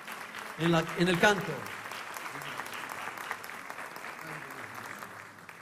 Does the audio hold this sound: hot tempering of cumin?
no